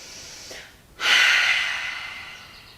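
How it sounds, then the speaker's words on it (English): A single deep cleansing breath taken while standing in yoga Mountain pose, a soft airy intake followed by a long, steady exhale that fades gradually, close and alone with no talk. "take a cleansing breath"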